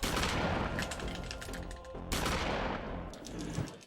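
Gunshots in the video game Eternal Darkness, loud booming blasts in quick succession with one sharp burst partway, no voices.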